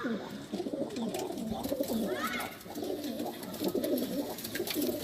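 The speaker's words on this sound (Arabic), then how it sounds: "هاي طيور." Pigeons coo on a rooftop, a dense overlapping chorus of soft throaty coos from several birds close by, continuous and rhythmic, with faint chirps and background noise.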